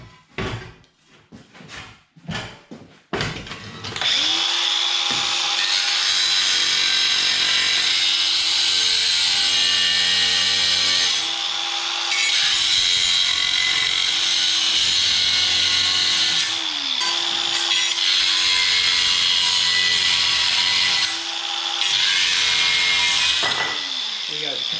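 A saw cuts through plasterboard drywall to make an opening for a shaver socket back box, working in a steady, continuous rasp over about twenty seconds after a few short knocks, close by and loud.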